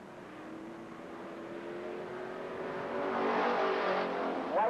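Street stock race cars roar side by side down the backstretch at Lake Geneva Raceway, their engines building steadily in loudness, heard from a distance.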